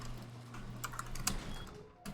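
Keys clatter on a computer keyboard during a Rust session, a few scattered soft clicks over a steady low hum and faint background game sound, with no talking.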